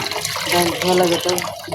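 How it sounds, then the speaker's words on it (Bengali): Lentils (dal) are washed by hand in water, giving a brief splashing, sloshing wash with a swirling rise in the middle, close and fairly loud, with voices faintly in the background. "ভালো করে ডালটা ধুয়ে নেব"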